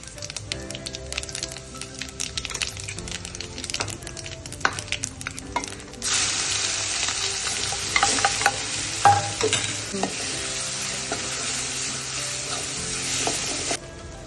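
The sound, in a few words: ginger chili paste tempering sizzling in hot oil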